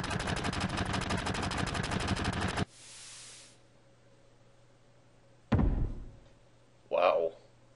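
Video game gunfire in Final Fantasy VII: a sustained rapid burst of automatic shots that cuts off abruptly, then a pause, a sharp thud and a brief whooshing hit.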